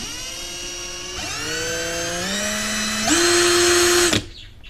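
A Ronix 8018 18V cordless impact drill whirs loudly up close at low speed, its motor whine climbing in pitch in a few steps as the trigger is pressed further, before abruptly stopping.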